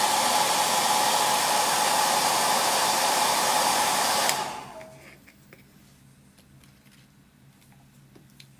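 A hot air blower drying paint on a scale model French chateau roars loudly and steadily for about four seconds, then cuts off abruptly, leaving faint ticks and quiet room noise.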